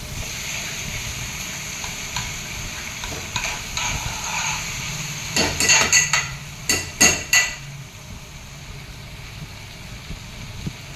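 Meal maker masala curry cooking on a medium flame: a steady low sizzle and simmer, with a cluster of sharp metallic clinks and scrapes of a spoon against the pan in the middle, no talking.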